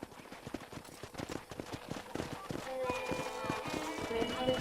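Horse hooves clip-clop at a brisk steady trot in Red Dead Redemption, close and rhythmic, with a voice talking over the footfalls and a faint musical tone rising toward the end.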